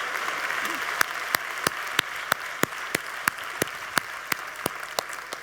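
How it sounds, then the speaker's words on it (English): A conference audience at Creativity4Better 2019 applauds quietly: a soft, steady wash of clapping with sharp individual claps landing in a regular, almost metronomic rhythm throughout. "Applause for you."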